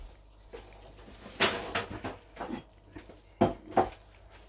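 Braised red cabbage with star anise being moved into a dish, with a few clinks and scrapes of a utensil against cookware and soft kitchen knocks.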